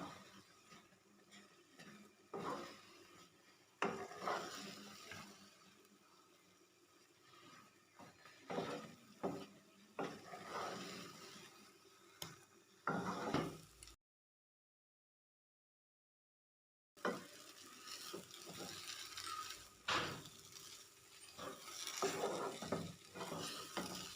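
Semolina halwa cooking in ghee, stirred in a pan with a soft sizzle and repeated scraping strokes of a spoon, fairly quiet and close, with one silent gap midway.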